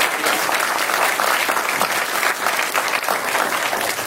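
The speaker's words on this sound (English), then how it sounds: "You guys got to give a huge round of applause for the wait staff here tonight at South Lamar" A dense, steady round of audience applause for the wait staff at a South Lamar movie screening, many hands clapping together at close range without a break for the whole stretch.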